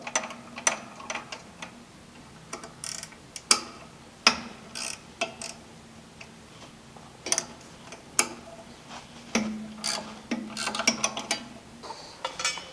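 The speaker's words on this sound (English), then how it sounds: "Next, we use a 1/2-inch wrench and remove the bolts." A 1/2-inch wrench removing bolts from a PowerHold shoe gives a series of close, sharp metallic ratcheting clicks and taps in an irregular rhythm over a quiet background.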